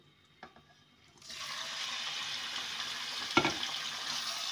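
Chicken pieces hit hot oil in a pot and a steady sizzling frying sound begins after a quiet start, continuing close and even with a brief clatter partway through.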